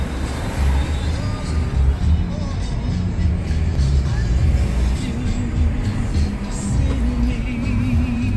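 A car drives along steadily, its engine and road noise a constant low rumble heard from inside the vehicle, with people talking over it.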